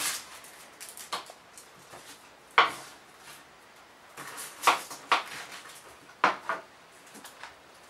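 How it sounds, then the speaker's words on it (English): Garlic cloves shaken hard in a jar for peeling, giving loose rattling clatters in uneven bursts, close and moderately loud, with sharper knocks at several points and no talking. "You put them in a jar, and then you just shake them like this."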